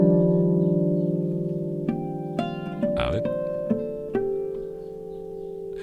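A baritone Andean vihuela is tuned with a series of single plucked strings, each ringing on as a sustained tone. A low drone holds underneath, and a voice speaks briefly.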